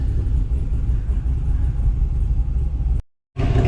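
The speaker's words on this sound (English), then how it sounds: "This car does have the tight lope." A 2005 Corvette with an aftermarket cam idles with a tight lope, a deep, steady, close rumble running continuously apart from one brief cut near the end.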